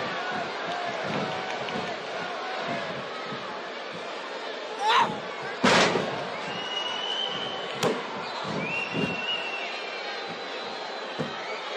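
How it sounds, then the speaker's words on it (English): Arena crowd murmur during a televised wrestling simulation in WWE 2K18, a steady buzz under commentators' talk, with a few louder thuds and short bursts of noise. "this Omaha crowd is buzzing in anticipation of this one"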